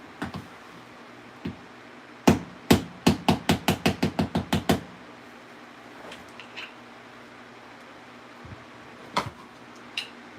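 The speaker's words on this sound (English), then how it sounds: "I'll try hammering it." Hammer strikes on a Losi 350 .21 engine part resting on the ground: two lone hits, then a quick run of about nine sharp, loud blows, followed by a few sparse, fainter taps.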